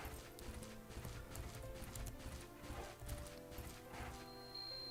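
Hooves clatter in a rapid, even clip-clop as a horse runs through hills in the Bella Sara video game, steady and fairly close, with no talking.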